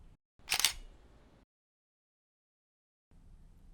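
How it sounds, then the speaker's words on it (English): A single DSLR shutter fires in aperture priority mode, one sharp, close mechanical click-clack followed by a brief fading tail and then near silence. "when I press the shutter button, the camera selects the shutter speed for me"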